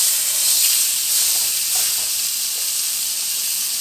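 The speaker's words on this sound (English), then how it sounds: "we're gonna go ahead and flip it over and sear the other side" Steak searing in hot oil after being flipped, a loud continuous close hiss and sizzle with faint crackles, no voices.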